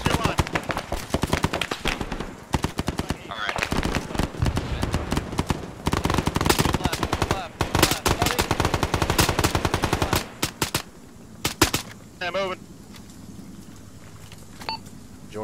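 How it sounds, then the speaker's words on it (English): Rapid bursts of Arma 3 gunfire rattle almost continuously, with automatic fire and scattered shots, then thin out into a few beeps and quieter sounds near the end. "I'm seeing a lot of gunfire down there."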